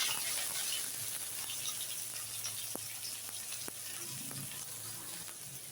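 Steady sizzling of chopped onion frying in oil, a constant hiss with occasional soft pops and crackles, close up, no voices.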